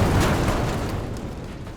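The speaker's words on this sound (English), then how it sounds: "a colossal explosion erupts from deep within the hull" A colossal explosion deep inside the hull of the capsizing battleship HMS Barham in archive footage: a loud, broad rumbling roar that fades gradually, without a sharp onset.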